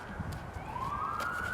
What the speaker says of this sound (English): But you will notice the sirens